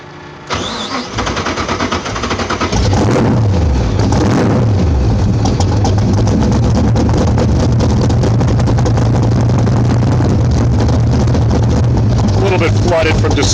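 A 1969 Chevrolet Corvette race car fires up loud and close, then settles into a heavy, rough idle that rumbles steadily with a loping rhythm, and a voice speaks over it.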